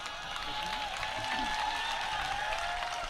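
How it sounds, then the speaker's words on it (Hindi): Audience at a Hindi comedy show by a comedian clapping loudly, a steady dense wash of applause lasting throughout with voices mixed in. "जोरदार ताली बजाओ यार।"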